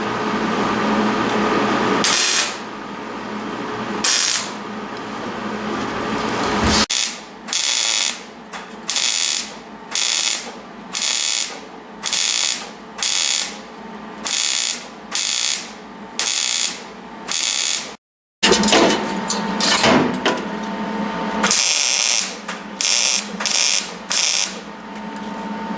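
Tack welding on a Toyota Land Cruiser overland build, heard as a string of short, sharp crackling bursts of arc welding in a steady stop-start rhythm, each burst a second or so long, loud and close with brief quiet gaps between.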